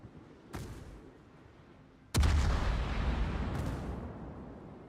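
Heavy 8-inch naval guns of the cruiser Castilla firing on the Ragnar in a warship battle game, two booming blasts, a lighter one near the start and a much louder, rumbling one midway that rolls on to the end.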